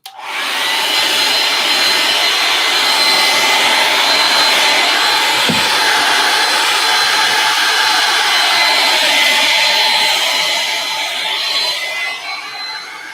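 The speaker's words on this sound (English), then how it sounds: "I'm going to hit this with the blow dryer again" A hair dryer blows steadily and loudly on mural paint for the whole stretch, a constant high whir with a brief soft knock partway through.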